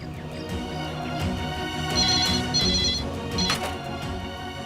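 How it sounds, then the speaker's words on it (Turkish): A telephone rings at an office line in a Turkish drama scene, with repeated electronic ring bursts over a busy, moderately loud background. "Ofisi arayayım."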